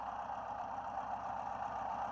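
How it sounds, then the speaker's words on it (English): A 1961 Sunbeam Alpine II engine idles steadily at about 850 RPM, a constant low rumble with a fine, even pulsing throughout; no voices. "She's idling about 850 RPM right now."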